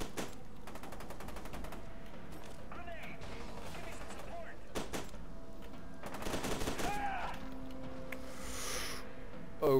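Gunfire in the video game F.E.A.R. 2: Project Origin: rapid bursts of automatic fire and scattered single shots, moderately loud, with a player talking over parts of the action.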